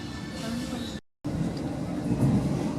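A passenger train rolls slowly along tracks past people sitting right beside the line, a steady low rumble and rattle with a brief dropout, loud and close throughout.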